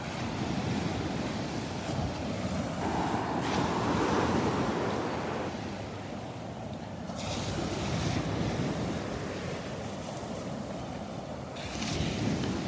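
Surf rolls in steadily at Delnor-Wiggins beach, with water churned up after a storm, a broad continuous wash of breaking waves swelling and easing, mixed with wind buffeting the microphone.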